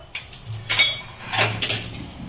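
Meat curry with potatoes stirred in a pot, a few close, sharp clanks and scrapes of a metal spoon against the pot in a short burst.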